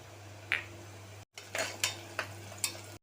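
Onions and green chillies stirred in a pan with a metal spoon, a series of five or six sharp scraping clinks over a steady low hum, close and moderately loud with no talking.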